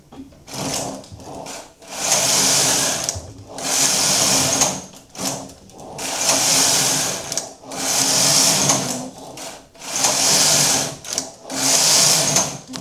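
Domestic knitting machine working Fair Isle colourwork, its carriage making about six loud, rhythmic whirring passes back and forth with brief gaps between them, and no talking.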